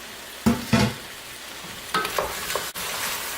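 Seasoned, marinated meat drops into a pan over medium heat with two loud bursts of sizzle, then settles into a steady frying hiss as it is stirred, with a scrape near the end.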